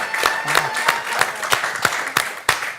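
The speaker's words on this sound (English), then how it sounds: "Let's give applause." A small crowd claps in a quick, uneven rhythm, sharp hand slaps rising over a faint murmur of voices.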